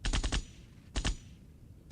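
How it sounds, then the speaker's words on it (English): Bursts of a gunshot sound effect, delivered as rapid clusters of sharp cracks, one group of four, then two, then another beginning. Loud, close and dry, with no voices. "Gunshot."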